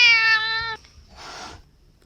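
A cat lets out one clear, loud meow, followed by a short breathy hiss-like sound, with no talking.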